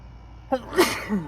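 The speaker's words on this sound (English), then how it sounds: "I'm gonna sneeze." A single sharp sneeze, preceded by a quick intake of breath and trailing off into a short exhale.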